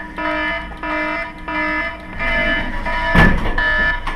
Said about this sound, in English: sound the alarm. We got another drug shortage.